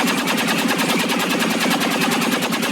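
Overwatch gunfire in the video game XCOM 2, aimed at a sectopod: a rapid, even stream of loud, close shots, roughly ten per second, rattles without pause.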